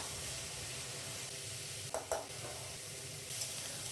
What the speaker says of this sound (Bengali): মশলা অনেকটা কষে এসছে তেলও ছেড়ে দেওয়া শুরু করে দিয়েছে